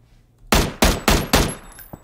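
Four rapid, loud gunshots from a shotgun or M16 ring out in PUBG, evenly spaced and close, each ending in a short decaying tail.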